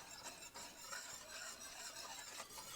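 A spoon or whisk stirs a fudge popsicle mixture in a pot, making a faint, continuous scraping and swishing with light rhythmic strokes. It is quiet and close, with no talking.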